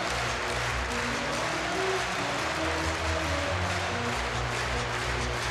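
A volleyball arena crowd in Lincoln cheers and applauds during the fifth set of a Minnesota at Nebraska match, producing a steady, loud roar of many voices and clapping that fills the space with no clear breaks.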